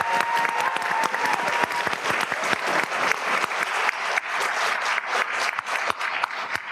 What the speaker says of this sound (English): Let's give one more round of applause for LAE's choir.